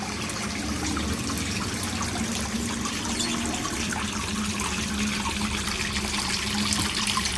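Water swirls and churns continuously at a small artificial waterfall fed by a pump, a steady, fairly loud rushing and trickling wash with no break.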